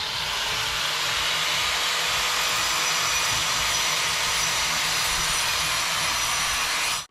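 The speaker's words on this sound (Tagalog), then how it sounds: "Grinder." A grinder with a grinding wheel runs steadily and loudly at close range on a house construction project, a continuous harsh whirring hiss with no breaks until it cuts off at the end.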